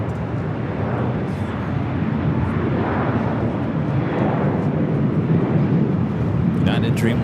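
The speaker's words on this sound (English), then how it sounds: "United Dreamliner, short funnel for 24 right." United Dreamliner airliner on approach to LAX, a steady broad jet roar that holds throughout at a moderate distance, with speech over it.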